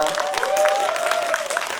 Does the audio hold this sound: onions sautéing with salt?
no